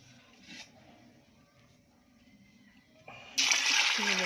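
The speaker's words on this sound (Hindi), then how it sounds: "अब इसमें हम पानी डालेंगे।" Water is poured into a pressure cooker holding black-eyed beans, a loud rushing splash that starts suddenly near the end after quieter kitchen clatter and faint rustling.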